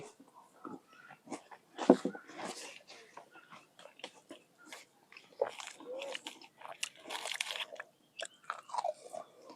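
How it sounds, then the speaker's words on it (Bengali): People in a biscuit-eating contest bite and chew fast, close to the microphone, in bursts of crunching and munching with heavy breathing and faint voices between. "সে কিন্তু 2টি করে বিস্কুট মুখের ভিতরে দিয়ে দিয়েছে"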